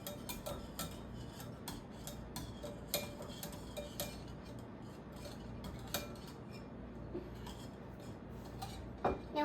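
Gluten free sourdough ingredients get stirred in a bowl, giving soft repeated scraping and light clinks of utensil on the bowl at a steady pace, close but fairly quiet, with no talking.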